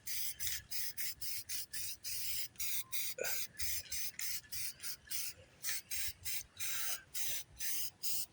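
Aerosol spray paint in Yamaha Blue Metallic applied to an old outboard boat motor: rapid regular bursts of hissing spray, about twenty short pulses with brief gaps, close and steady, no talk.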